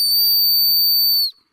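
A single loud, shrill, sustained blast from a survival whistle built into a multi-tool fire-starter pen, lasting over a second, then cutting off abruptly into silence.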